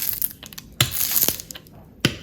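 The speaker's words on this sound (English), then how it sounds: "You can use your brayer roller if you have one, just to get a nice big a nice seal, and you can hear it pushing out all those little air bubbles." A brayer roller is pressed across a handmade snow globe ornament to push out air bubbles, giving crisp crinkling and crackling sounds with a few sharper snaps, close and fairly loud.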